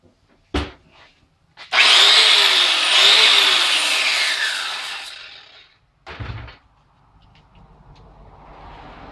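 An angle grinder bites into a galvanized garage door hinge in one long, loud burst of about four seconds, its high whine sliding in pitch as it works the metal, then a short second touch, with quiet shop stillness around it.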